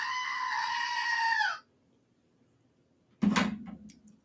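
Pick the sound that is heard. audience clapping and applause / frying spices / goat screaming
goat screaming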